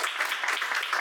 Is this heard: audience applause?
yes